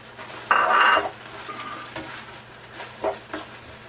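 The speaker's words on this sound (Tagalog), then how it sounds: "So, halu-haluin lang siya ulit." Utensil scraping and clinking in a pan as sotanghon noodles with carrots and cabbage are stirred, one louder scrape near the start followed by lighter scattered knocks, close and fairly quiet.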